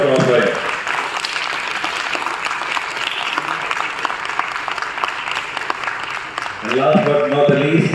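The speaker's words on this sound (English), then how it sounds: "Big round of applause for him." Audience applause at a Veterans Day musical evening hosted by a navy foundation, steady clapping filling the hall throughout, with a voice speaking over it at the start and end.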